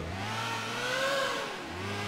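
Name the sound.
motorcycle engine revving in video game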